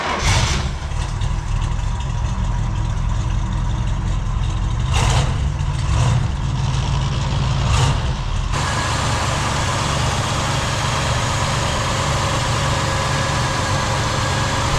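A 1969 Chevrolet Bel Air with a factory 396 big-block V8 cranks and fires, then settles into a loud, steady, rumbling idle close to the microphone.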